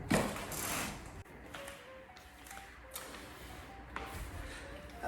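A Bagotte 2000Pa robot vacuum whirs along steadily, its motor humming under scattered mechanical clicks and ratcheting rattles, with brief high whines rising now and then.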